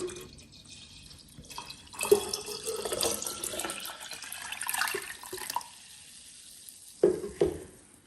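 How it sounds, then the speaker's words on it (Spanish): Water pours from a tap into a pitcher for a vanilla drink, splashing and gurgling unevenly. A few louder bursts come near the end, then it drips and settles. "lo vamos a agregar en una jarra y le vamos a agregar agua"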